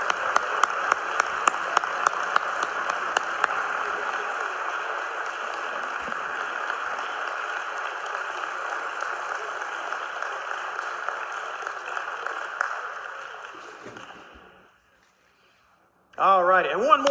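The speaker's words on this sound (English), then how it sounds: "one more big round of applause to these American heroes" Audience applauding World War II Merchant Marine veterans at a Congressional Gold Medal commemoration, sustained clapping that fades out around fourteen seconds, followed by silence and then a voice speaking.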